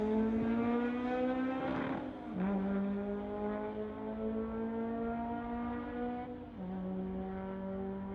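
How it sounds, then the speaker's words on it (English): A 1973 VW Beetle and a BMW launch side by side at a street-legal drag racing event. A loud, buzzing engine drone climbs steadily, then drops sharply at two gear shifts before rising again. "Kevin Kaiser and that 73 Beetle going against the BMW."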